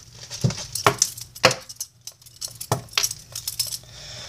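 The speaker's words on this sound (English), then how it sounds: "let me get my knife opened" A pocket knife is pried open, several small metallic clicks and clinks spaced irregularly, close and fairly quiet, with faint handling noise between them.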